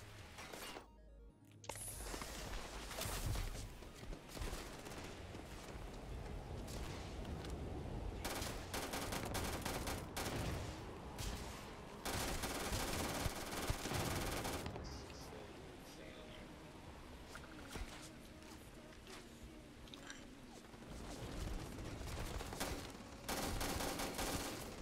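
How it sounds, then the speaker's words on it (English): Automatic gunfire from behind in the space game Starfield, dense continuous bursts of shots close and loud throughout, with a voice talking over them. "They're shooting me from behind"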